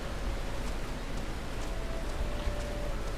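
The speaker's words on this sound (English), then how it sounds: "Let's run over here through the rain." Steady rain in the Final Fantasy XIV Stormblood video game, a dense even hiss of falling water, continuous and fairly loud with no other distinct sounds.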